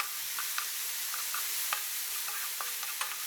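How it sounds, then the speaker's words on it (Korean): Garlic and diagonally sliced green onion stir-frying in a hot pan, giving a steady soft sizzle broken by light scraping ticks of a utensil stirring, fairly quiet, no voices. "마늘 조금, 어슷썰기 대파 넣고 볶아주세요."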